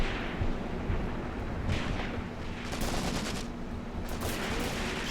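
Sustained battle noise fills the Graviteam Tactics: Mius Front video game, with a dense rumble of distant gunfire and artillery and clusters of sharper shot volleys crackling over a constant low roar.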